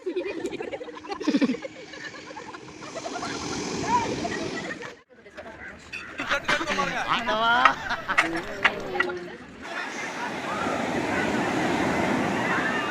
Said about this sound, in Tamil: அரபிக் கடல் கிட்ட வந்திருக்கோம்